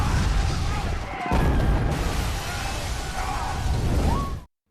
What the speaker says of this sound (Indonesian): Jim menembaki satu persatu karyawan di sana dan gak hanya itu, Jim juga melemparkan granat